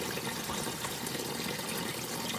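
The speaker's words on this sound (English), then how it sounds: "You see how much bubble is created because it's drawing air from this side." Water flows through an external siphon pipe draining a grow bed while drawing in air, making a steady, rushing gurgle of bubbles. The sound is fairly faint and continuous, with no voices.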